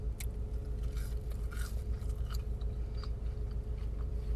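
Someone chews fries close to the mic, with soft crunchy bites and wet mouth sounds repeating in a steady rhythm against a low background hum.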